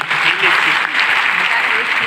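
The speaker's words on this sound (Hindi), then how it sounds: "जोरदार तालियों के साथ।" Loud applause at a school gathering welcoming the principal as guest judge, a brief dense burst of many hands clapping with a voice audible over it.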